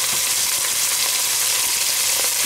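Onion and green chilies sauté in hot oil for a Jaffna-style mutton curry, giving a steady, close, even sizzle with faint stirring ticks and no talk.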